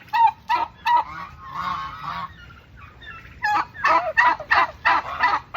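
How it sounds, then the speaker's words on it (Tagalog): Farm fowl honk and gobble close by in bursts, with a few calls at first, a short lull, then a rapid run of loud, repeated cries. "Meron pa ditong mga pabo na medyo malaki na."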